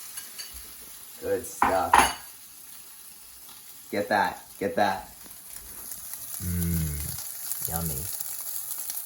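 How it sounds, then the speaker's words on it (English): Bread frying for French toast in a hot pan gives a steady, soft sizzling hiss throughout, with a few cutlery clinks and people talking over it. "Hear that sizzle."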